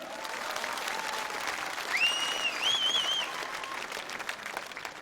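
An audience applauds a contestant at a televised singing competition, steady sustained clapping from a crowd with a few whistles rising partway through.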